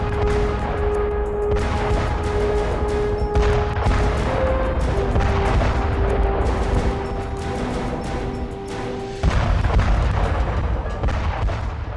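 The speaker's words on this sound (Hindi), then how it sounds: "इसके बाद उन्होंने गुरुंग हिल, स्पांगुर गैप, मगर हिल और रिजांगला पर जबरदस्त गोलाबारी शुरू कर दी।" Heavy artillery bombardment shelling hill positions at Rezang La, a sustained dense roar of booms and blasts running continuously, loud and close, with a brief drop near the end before surging again.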